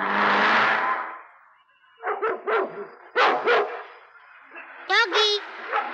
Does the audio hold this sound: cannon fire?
no